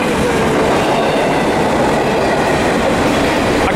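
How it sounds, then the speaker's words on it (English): A southbound Metrolink commuter train passes close by at Fullerton station, a loud, continuous roar of wheels and railcars with some clatter throughout. "we have a southbound Metrolink doing"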